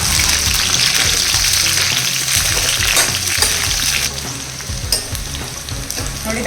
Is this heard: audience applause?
no